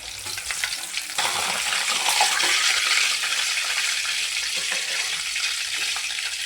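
Lays chicken fries in hot oil in a pan with a steady, dense sizzle that jumps louder after the first second and continues evenly, with no talking.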